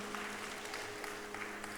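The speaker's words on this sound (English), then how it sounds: "Give her a big round of applause" A crowd claps at a school annual prize-giving ceremony, a soft, even patter of applause with a faint steady hum of the hall's sound system beneath.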